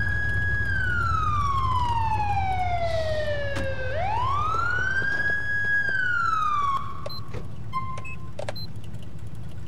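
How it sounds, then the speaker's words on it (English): A police car siren in the video game GTA IV wails in long, slow rising and falling sweeps over a low engine hum, then cuts into short bursts before stopping. "A siren over here."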